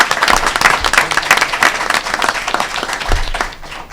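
An audience at a board meeting applauds new commissioners with steady, loud, dense clapping filling the room throughout, a few sharper claps standing out.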